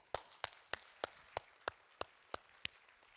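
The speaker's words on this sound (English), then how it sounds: "Sorry, can we have a little better than polite applause?" Polite applause after a World Bank panel presentation: faint, sparse claps, about ten in evenly spaced succession, crisp and isolated against a quiet room rather than a full crowd.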